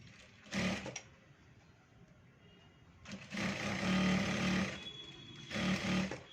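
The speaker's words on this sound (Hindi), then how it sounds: "उल्टी साइड में हमने स्टिच कर लिया है। अब दूसरा भी जो हमारा पार्ट होगा उसे भी हमें उल्टे साइड में जो है स्टिच करना है।" Sewing machine stitching fabric for bell sleeves, close mechanical whirring in three bursts: one short, a long run in the middle, and another short one, separated by quiet pauses with no talking.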